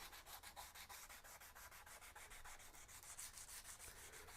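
Guitar X-braces being sanded with 150 grit sandpaper, a quiet, steady rhythm of quick back-and-forth rubbing strokes, close and alone.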